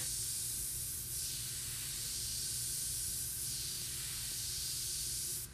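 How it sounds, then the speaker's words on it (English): An airbrush sprays paint in continuous hissing bursts, steady airflow with a couple of brief swells where the stroke changes, close and even, over a low background hum with no talk. "to control the aim, is to try to spray a small spot where the lines intersect"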